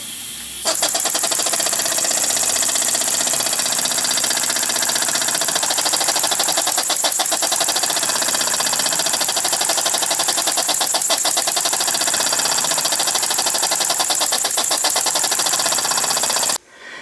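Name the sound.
small steam engine with governor running under finger load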